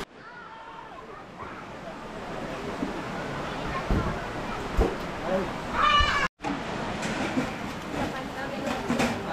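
A cat meows a few times amid a noisy outdoor family day gathering, the calls partly masked by people talking and a rumbling, clattering background.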